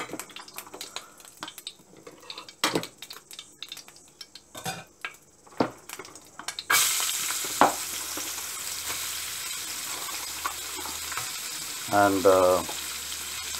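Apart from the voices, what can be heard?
vegetables frying in chili oil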